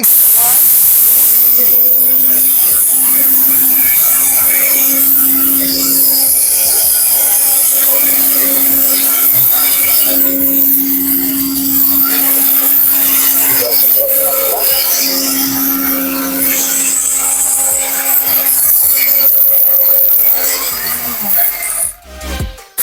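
An electric blender runs without pause for about twenty seconds, a steady loud whirring hum with grinding hiss that holds level, then cuts off abruptly near the end.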